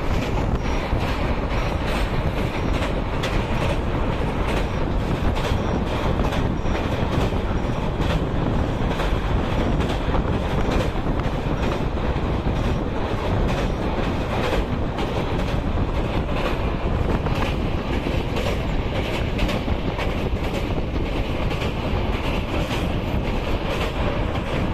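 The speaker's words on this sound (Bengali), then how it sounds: "আমাদের ট্রেন এসে পৌঁছলো পাটনা স্টেশনে।" Passenger train running on from Patna station, heard as a dense, steady roar of wheels and carriage rumble with faint clickety-clack and wind buffeting, continuous and loud throughout without speech.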